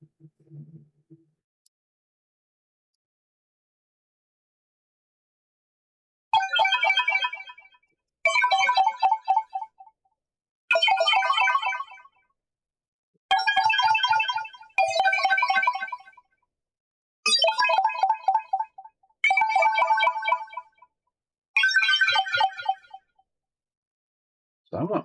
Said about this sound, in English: checkpoint sound.